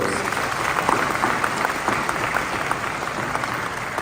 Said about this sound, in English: Please, a resounding round of applause.